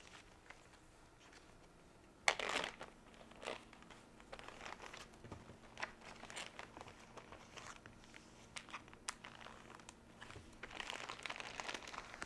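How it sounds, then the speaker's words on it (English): A plastic bag crinkles and rustles in short, soft bursts as rolled fruit leather layered with plastic wrap is slipped inside, close and quiet with brief pauses between handling sounds. "And we'll put it in a plastic bag."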